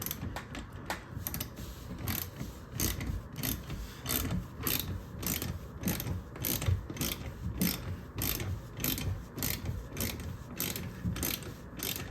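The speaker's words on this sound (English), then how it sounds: "The easiest way to do this is with a small ratchet and a 4mm socket." A small ratchet with a 4mm socket turns the leveling screw on a Frigidaire Gallery GDPH4515AD dishwasher, giving a fast, steady run of close, crisp clicks that pause briefly as the handle swings back and forth.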